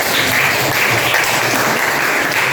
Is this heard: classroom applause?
yes